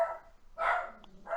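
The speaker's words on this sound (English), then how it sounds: "I have dogs yelling." Indoor dogs barking in three short bursts, fairly close and loud with a brief pause between, alone without talk.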